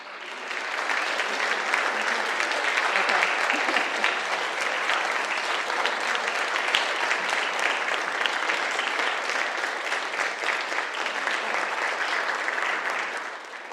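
A congregation at a winter solstice worship service applauds in a full, steady round of clapping that lasts about thirteen seconds and fades at the end, with no voices over it.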